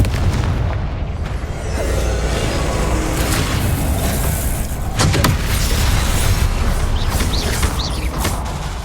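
Confringo spell explosions in Hogwarts Legacy: loud, repeated booming blasts with rumbling, creaking debris, several sharp bursts punctuating a continuous roar of combat noise.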